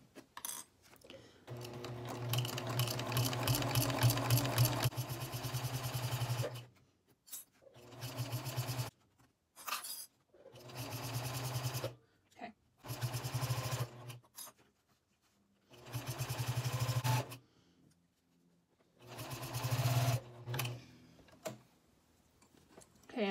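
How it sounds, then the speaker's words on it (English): A sewing machine stitches a vinyl project bag in repeated short bursts of fast mechanical whirring, each a few seconds long and separated by brief pauses, close and clear. "I'm just gonna move this back and just do one back stitch"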